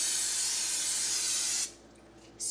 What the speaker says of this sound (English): Spray your crock pot so nothing sticks.